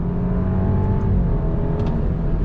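A 2022 Alfa Romeo Giulia sport sedan's engine revs hard and steady up close, its harmonic drone shifting pitch as it accelerates and drops a gear.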